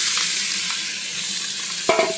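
Onion and meat fry in a pan with a steady, close hiss of sizzling oil, broken near the end by a short clatter of stirring.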